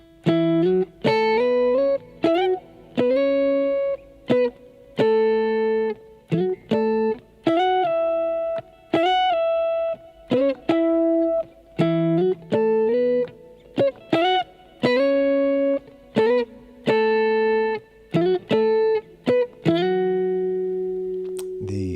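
Electric guitar plays a quick run of plucked octave notes, bright and distinct, with brief gaps between phrases and a sustained chord at the end; no talking.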